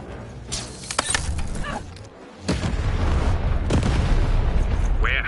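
Cannon fire in the video game Lost in Random, several sharp booming blasts with rumbling tails over busy game noise, one heavy blast after a short lull.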